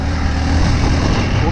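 Hero Xpulse Pro motorcycle engine running, a loud, steady, close drone with no breaks, recorded while riding.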